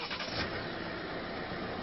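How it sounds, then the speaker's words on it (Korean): A Hyundai Avante diesel engine starting and settling into a smooth, even idle, heard close up and alone for a brief moment. "일단은 시동을 걸어볼까요?"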